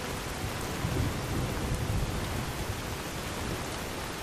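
A video-game thunderstorm brings a dense, continuous wash of heavy rain with a low thunder rumble swelling underneath, steady and enveloping throughout, with no voices.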